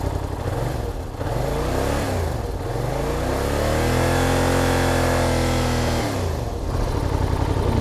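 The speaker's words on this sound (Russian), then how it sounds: "До 5000 даю оборотов" A Yamaha TDM 900 motorcycle with a charging fault revs up to about 5000 rpm and holds steady, then drops back toward idle; the engine note is loud and close, with no talking.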